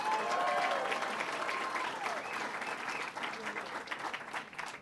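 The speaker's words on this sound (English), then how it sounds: "Give him a round of applause, Mayor Clyde Rabideau." An indoor audience at a regional economic development party claps in a steady sustained round of applause for a mayor, dense and moderately loud, tapering slightly toward the end.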